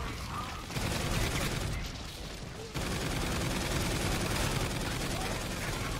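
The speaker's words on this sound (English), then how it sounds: "And let's place down the sentry gun." A sentry gun blasting at zombies in Call of Duty: Infinite Warfare's Zombies in Spaceland mode, a dense, continuous roar of rapid gunfire that briefly dips and then resumes at full intensity.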